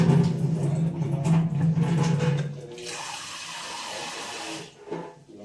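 A cooking ingredient is rinsed under a running kitchen tap. Water gushes loudly and steadily into the sink for a few seconds, then cuts off, leaving quieter drips and splashes of handling.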